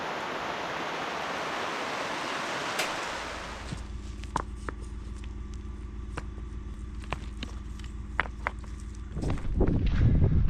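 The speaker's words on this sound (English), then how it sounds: "Another rain shower." A dense hiss of rain pours down steadily on a bush camp for a few seconds, then gives way to quieter scattered taps and rustling, with a louder rush near the end.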